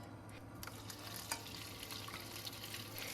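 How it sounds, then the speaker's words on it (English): Beef stir-fries in a little oil in a pan, a soft, steady sizzle with light scraping stirs, faint and close, with no voices. "Now add a little more oil to the pan and we can stir-fry the beef"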